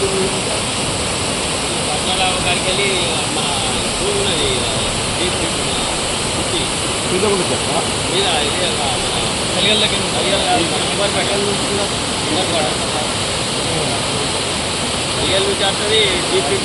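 Floodwater pours from a breached village tank, a loud continuous roar of rushing water like a waterfall, steady and broadband throughout with no voices.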